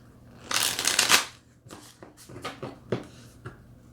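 Tarot cards are shuffled up close, with a dense riffling burst early on followed by several shorter, softer card flicks and slides.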